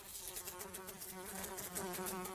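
A housefly buzzes steadily in a room in a Family Guy cartoon scene, a continuous close, faint drone with slight wavering pitch, no voices.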